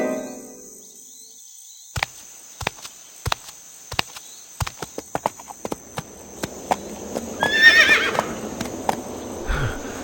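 Hooves clip-clop in sharp, uneven clicks over a quiet background, then a horse gives a loud, quavering neigh near the end, followed by a low snort.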